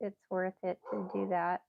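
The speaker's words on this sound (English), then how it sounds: "Sorry about my dogs." Pet dogs bark and yip in short bursts close by, the sharp outbursts overlapping a person talking indoors.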